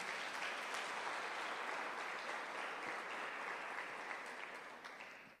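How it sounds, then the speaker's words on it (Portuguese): Church congregation applauds in a sustained, even wash of clapping heard from within the room, fading out at the end; quiet overall with no voices on top. "Você pode aplaudir o Senhor grato por essa palavra?"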